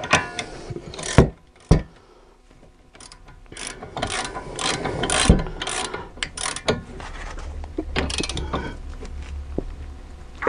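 Ratcheting wrench clicks in bursts as caliper bracket bolts are tightened on a Dodge Nitro during a brake job, close and fairly loud, with metallic clatter and brief pauses between runs.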